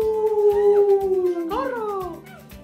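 A voice imitates the howl of a hungry wolf from a children's story, delivered as one long falling howl and then a second rising-and-falling howl, loud and close, with classroom murmur underneath.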